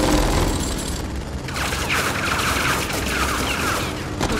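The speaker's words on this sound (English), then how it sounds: "I can run through the gunfire." Dense, continuous gunfire rattles in the video game Tales From the Borderlands, a loud, unbroken fusillade of rapid shots that fills the whole stretch.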